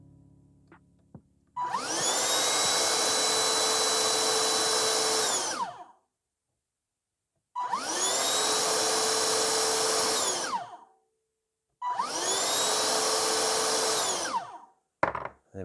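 A repaired Gtech Multi handheld vacuum cleaner switches on and runs in three separate bursts of several seconds each, with a steady loud motor whine and a clean stop after each one. Short silent gaps fall between the bursts.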